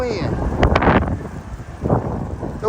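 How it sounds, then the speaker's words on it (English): Strong night wind in Los Angeles County buffets the microphone in gusty, rumbling bursts, with a few short surges standing out and a person talking briefly between them. "Damn, it's windy."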